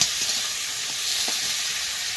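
Potatoes frying in oil in a wok produce a steady, close hiss of sizzling with faint stirring knocks, heard alone without talk.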